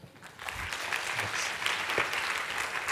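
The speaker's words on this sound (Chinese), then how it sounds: "让我们掌声来欢迎" Crowd at a civic tech summit presentation applauding to welcome presenters, a fairly soft but steady wash of clapping that swells after a quiet start and continues to the end.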